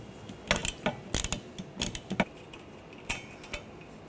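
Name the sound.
15mm socket wrench removing a nut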